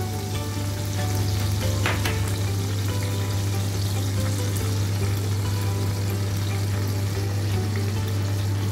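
A yogurt spice mixture with cumin, coriander, turmeric and Kashmiri chili powder is poured into eggplant frying in a pan, giving a steady, dense close sizzle with a brief splattering flare early on and a low hum underneath.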